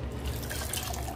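Water is poured onto soaked wheat in a grinder jar for a sweet wheat paalooda, a brief close splashing trickle lasting about a second.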